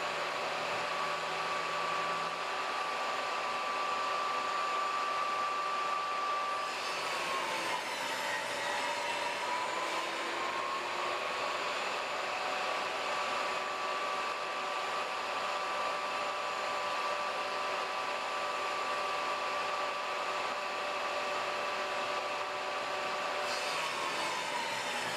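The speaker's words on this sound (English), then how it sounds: "we cut the first bevel, flip it to the other side, cut the other one." Table saw blade cutting bevels on wood pieces guided by a sled, a loud steady whine with a shifting pitch as the blade bites, continuous throughout with no talking.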